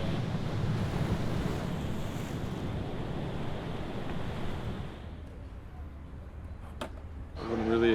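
Large ocean waves break and rush at Nazaré, a loud continuous roar of surf with wind buffeting the microphone, easing toward the end as a brief sharp noise cuts in.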